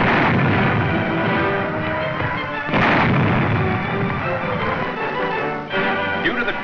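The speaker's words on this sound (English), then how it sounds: "Near Ypres, Canadian tanks clear the way with their guns." Canadian tank guns fire near Ypres in 1944 wartime footage: a dense, continuous roar of heavy gunfire and blasts, with louder booming bursts standing out at intervals.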